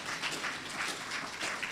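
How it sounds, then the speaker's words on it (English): A lecture-hall audience applauds for CDD at a public talk on radio and governance, with dense, steady clapping from many hands throughout and no one speaking over it. "So let's put our hands together for CDD."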